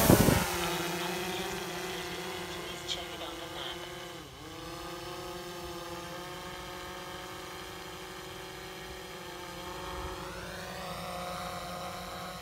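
A DJI Phantom 4 Pro V2 drone hovers steadily, its rotors giving a constant, fairly quiet whine with a faint shift in pitch near the end, heard alone.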